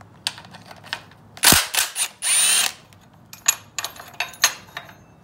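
A power tool, likely an impact driver, zips out a 12mm bolt on a Yamaha YFZ450 ATV engine during teardown, with short loud whirring bursts and rattles, close up with no talk.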